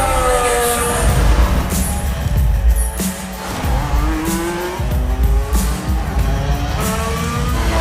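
A racing car tears through city streets, its loud engine revving and shifting continuously, with sharp tire squeals and siren-like wails rising over the roar.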